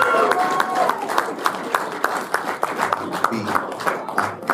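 A comic con crowd claps and cheers for voice actor Carey Means, with loud, dense applause and sharp individual claps cutting through, and voices talking beneath it.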